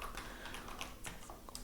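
Typing on a computer keyboard while coding a React drawing component: a quick, uneven run of light key clicks with a few sharper taps, close and fairly quiet, with no talk.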